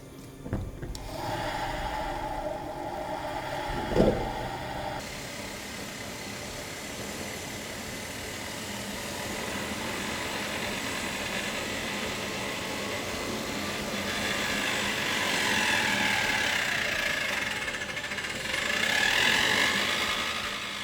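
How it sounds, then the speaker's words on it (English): A homemade jet engine running on propane-butane camping gas during its first test, with the turbine wheel rubbing against the housing: a sustained rushing, roaring hiss mixed with grinding and scraping, swelling louder toward the end with rising whines. "Finally, the first jet engine test."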